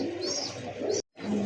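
A pair of large pigeons cooing close by, soft repeated throaty coos over a steady background, broken by a short gap.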